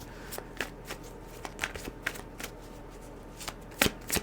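Tarot and oracle cards are shuffled and drawn from a deck, producing a string of soft, quick riffling flicks and taps at irregular intervals, close and fairly quiet, with a couple of sharper snaps near the end.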